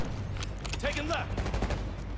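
Gunfire from the Call of Duty Black Ops 6 video game, a dense run of game gunshots and bursts crackling continuously over a low rumble, with voices speaking faintly underneath.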